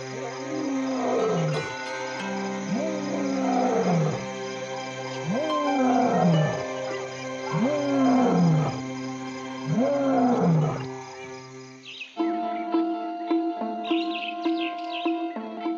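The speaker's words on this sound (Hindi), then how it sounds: "उसकी दहाड़ पूरी रात नियमित अंतराल पर सुनाई देती रहती है।" A lion roars at night in a repeated series of deep, grunting calls that swell and fade at regular intervals, loud and fairly near, then give way to a quieter stretch of chirping birds and insects.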